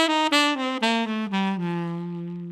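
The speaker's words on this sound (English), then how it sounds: "Then if we play up the whole bebop scale with a duden articulation" A saxophone runs a bebop scale, a string of clearly tongued notes stepping downward and settling on a long, sustained low tone, played solo and close.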